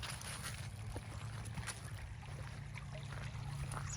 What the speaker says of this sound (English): so you can see the creek and hear the creek